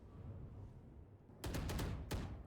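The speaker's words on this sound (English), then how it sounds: "Bray, hearing the gunfire, readies the flash." Gunfire in the tactical shooter Valorant, a quick burst of several sharp shots followed by one more crack, over a faint game ambience that fills the first half.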